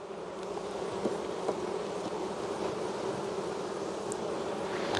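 Honeybees from a small colony buzz continuously during an early September hive inspection, a steady, moderately faint hum with no voices.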